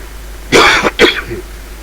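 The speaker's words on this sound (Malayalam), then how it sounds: "ചുമയാണ്" Two short, harsh coughs in quick succession, close and fairly loud, with a quieter rasp trailing after in an otherwise quiet room.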